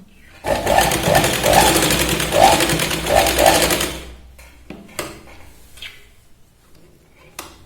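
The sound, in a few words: sewing machine double-stitching a baby girl's pant hem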